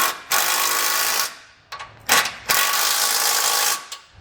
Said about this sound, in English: I'm just going to come back with a 15mm socket and snug everything down